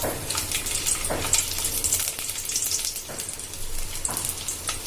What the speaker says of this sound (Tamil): கீ ஹீட் ஆகிடுச்சு. நான் இப்போ இஞ்சி பூண்டு போட்டுக்கிறேன்.